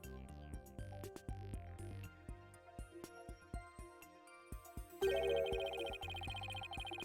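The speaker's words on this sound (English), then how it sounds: "The sound of bells changes to the sound of water at one point." Chiming bell tones in the Phoenix Wright: Ace Attorney video game give way to a watery sound, with rhythmic tonal steps repeating throughout and a shift to a brighter, denser texture near the end.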